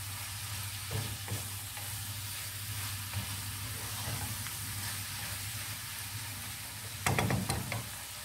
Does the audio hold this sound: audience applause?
no